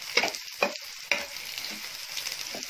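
Dried red chili and a small cardamom pod fry among lightly browned onions for a Sindhi-style besan gatte curry, stirred with three sharp scraping strokes and then a quieter, steady sizzle.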